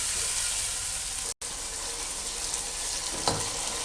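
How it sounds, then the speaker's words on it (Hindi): Tomatoes, chillies and beans frying in masala with a splash of water, a steady close sizzle and hiss that runs through the clip, broken by one brief cut and a small stir near the end. "अब इसको भूनते हैं।"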